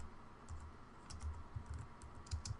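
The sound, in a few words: typing a code comment on a computer keyboard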